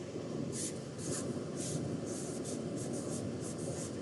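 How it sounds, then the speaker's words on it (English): Pen or pencil on paper makes a faint, quick run of scratchy strokes in short bursts over a steady background hiss. "instead of writing me, Blake, and Mr. Zach, I'm just going to write first, my family"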